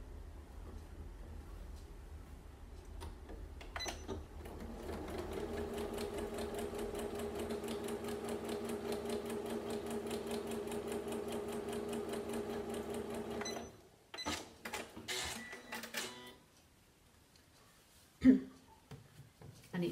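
A sewing machine joins strips of fabric, a long even run of rapid mechanical stitching lasting about nine seconds, followed by a few short bursts and clicks and quiet handling.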